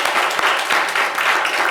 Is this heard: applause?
yes